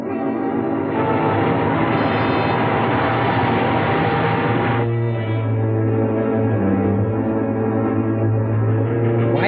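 A train rumbles past loudly with steady mechanical roar and clatter, a low droning tone holding through the second half.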